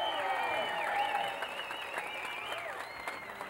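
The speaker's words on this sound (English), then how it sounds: "everyone here giving a big round of applause to George Pataki, Libby Pataki" A parade crowd applauds Governor George Pataki in Peekskill in 1994: steady, dense clapping throughout, with high tonal whistles or sirens rising and falling over the noise.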